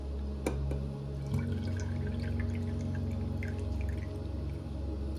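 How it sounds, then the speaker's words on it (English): Water pours steadily into strawberry lemonade concentrate in a home kitchen, a continuous close liquid fill with a soft rising tone as the container fills, alone without talk. "And we're going to add water to this."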